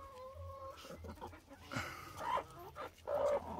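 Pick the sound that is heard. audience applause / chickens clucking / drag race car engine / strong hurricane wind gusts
chickens clucking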